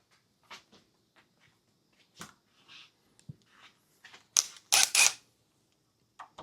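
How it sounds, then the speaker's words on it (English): Old door locks being taken apart by hand: a scattered series of light metallic clicks, taps and rattles, with a few sharper, louder clacks close together near the end. "we're going to disassemble the old locks"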